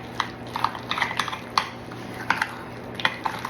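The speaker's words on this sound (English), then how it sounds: "And we're going to mix that up until it's smooth," Ranch seasoning being mixed with sour cream and grated cheddar cheese for a John Wayne casserole, heard as a series of sharp utensil clinks and taps against a bowl in an uneven rhythm; no talking.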